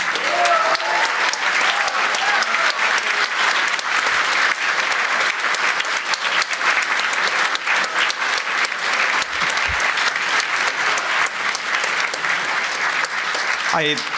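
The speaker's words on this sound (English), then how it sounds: "You should give yourselves an applause." A large convention audience at a furry convention's closing ceremony applauds steadily and loudly for a long stretch, dense continuous clapping with some voices mixed in.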